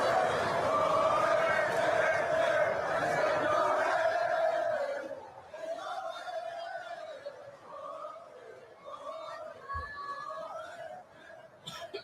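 A golf crowd of a few thousand people chants in unison to the tune of a song, a loud sustained sung melody from a distance that thins out midway into looser, fainter singing.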